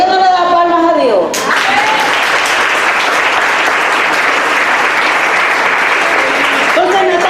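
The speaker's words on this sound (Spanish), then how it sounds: "¿Por qué no le da palmas a Dios?" Congregation clapping during a Spanish-language church sermon, loud sustained applause lasting several seconds, with a voice speaking just before it and again at the end.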